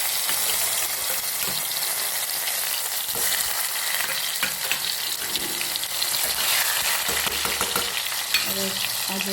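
Cumin, green chili, garlic and tomato tempering in hot oil in a pan, giving a steady, loud, continuous sizzle and crackle with occasional stirring scrapes and no talking.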